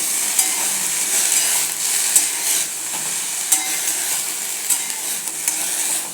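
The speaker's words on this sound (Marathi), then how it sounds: "अशी परतून घ्यायची भाजी" Chickpea leaf bhaji sautéing in a pan: a steady close sizzle with repeated spatula scrapes and stirring clinks, no talking.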